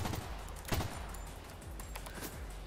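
Rapid gunfire in a first-person video game shooter, a loud burst of shots with a strong crack near the start followed by scattered shots over a steady background din.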